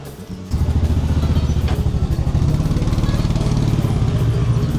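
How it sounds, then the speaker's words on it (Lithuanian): Motor scooter riding through a narrow lane in a Marrakesh market, its engine droning loud and close with a steady, slightly rough putter after a brief quiet start. "Kur reikia dar čia važiuoti pro tokį siaurą kelią su to motoroleriu."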